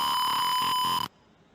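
A gas sensor alarm buzzer on a DIY weather monitoring and gas detection device sounds a steady, loud electronic tone for about a second, then cuts off abruptly into near silence.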